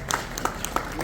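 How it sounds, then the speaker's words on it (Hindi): Scattered audience applause at a National Voters Day ceremony in Srinagar, a few distinct claps spaced at irregular intervals over a faint, reverberant room background. "जोरदार तालियां इनके लिए।"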